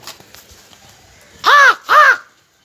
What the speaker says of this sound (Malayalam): കാക്കയ്ക്ക് വെച്ചിട്ടുണ്ട്. അപ്പോൾ കാക്ക വന്നിട്ടുണ്ട്.